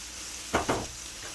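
Onions caramelizing with a spoonful of sugar in a pan for stewed beef shank kebab, a soft steady sizzle broken by two quick stirring scrapes near the middle, fairly faint and close.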